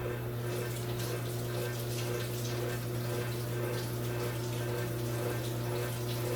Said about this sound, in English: So I don't want to rinse these carrots too much.